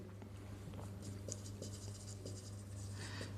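Pen scratching steadily on paper while a maths solution is written out, faint and continuous with small strokes over a low steady hum, no talking.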